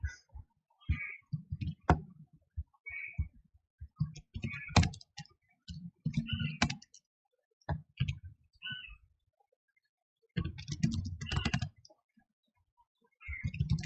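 Computer keyboard typing a command in a terminal during a hacking walkthrough, with bursts of quiet, close key clicks separated by pauses.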